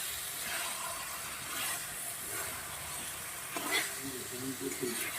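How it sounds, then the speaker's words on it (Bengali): Egg dopiaza with fried potatoes and three green chilies cooks in a pan, giving a steady, fairly quiet sizzle and hiss with a few soft stirring scrapes near the end. "তিনটে কাঁচা লঙ্কা আর দিয়ে দেব ভেজে রাখা আলু আর ডিমটা এবার আরও দু মিনিট আমি কষিয়ে নেব"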